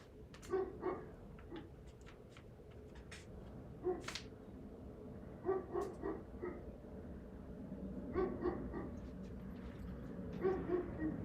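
A neighbor's dog barks in the distance, sending out scattered short yips and barks in small clusters over a low steady background hum, faint and intermittent.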